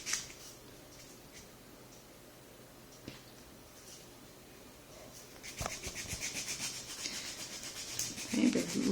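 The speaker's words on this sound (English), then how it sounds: "Let's go back to filing." Rough, rhythmic rubbing of a file across a sculpted acrylic nail on a practice finger, faint at first, then quicker and louder strokes in the second half, with scattered small clicks.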